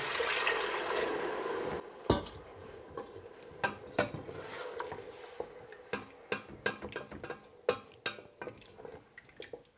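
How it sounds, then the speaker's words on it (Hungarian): Water poured into a pot of mushroom soup with thyme, a wash of liquid at first, then a run of irregular drips and splashes, close and fairly quiet, with no one talking. "És engedem is fel vízzel."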